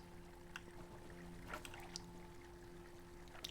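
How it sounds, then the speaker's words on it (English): Gentle water flowing from a fountain inside a player house in Elder Scrolls Online, near an aquarium, a soft steady trickle with faint splashes over a low ambient hum. "A little bit of a water flowy sound going on."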